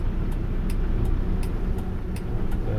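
A manual car's engine pulls under acceleration during a road driving lesson, a steady low rumble with road noise and a regular faint ticking, with no talk.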